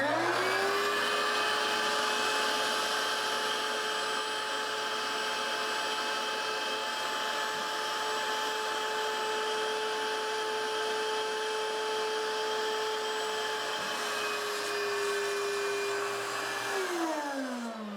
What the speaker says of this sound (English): I'm going to put this over top of the drain hole and see if I can suck as much as the liquid Drano that's down in the system